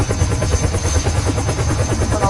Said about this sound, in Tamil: ஹெலிகாப்டர் இருக்கியா? ஹெலிகாப்டர் எடுத்து போகணும் போல.